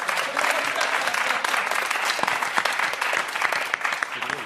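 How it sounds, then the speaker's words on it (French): Studio audience applause on a French talk show, loud sustained clapping from a crowd, close and dense for the whole stretch. "On applaudit Gonzague Vendroux."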